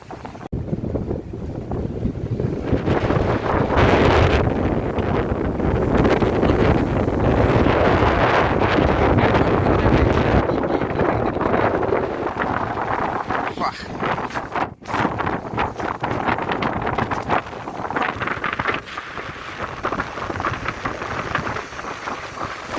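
Strong wind buffets the microphone at the Kanyakumari seashore in the evening, a loud continuous roar and rumble across the whole stretch, with a brief dip midway.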